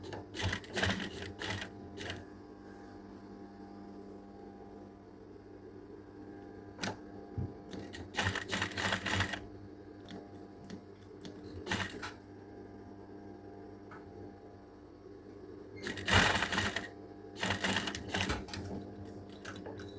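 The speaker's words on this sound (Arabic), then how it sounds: "غادي نخيط بنص سنتيم." A sewing machine stitching a half-centimetre seam on fabric for a women's shirt, running in several short rattling bursts separated by quiet pauses, close by with no talking.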